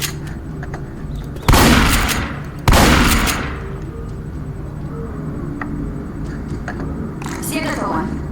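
Pistol fire in a zombie video game: two loud, close booming shots about a second apart, each trailing off, followed by quieter game sounds and a few small clicks, with people talking.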